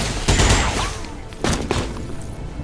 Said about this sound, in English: As to the mech, it's going to go ahead and advance. And it'll take a shot at the officer.